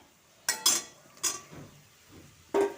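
Fried potatoes are stirred into spiced masala in a pan, a spoon scraping and clinking against the metal in a few separate bursts with quiet pauses between.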